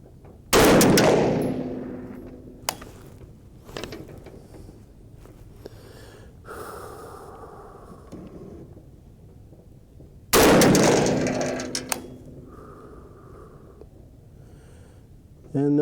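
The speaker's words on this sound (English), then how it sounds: "Okay, so this will be the second shot." Two loud, sharp 350 Legend rifle shots fired with FTX bullets over a 16.2-grain powder charge, one near the start and one about ten seconds later, each with a booming echo and quieter handling noise between.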